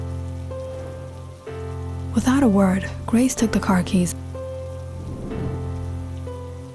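Steady rain pours down at night, a continuous hiss from start to finish, while a narrator speaks over it and music plays beneath.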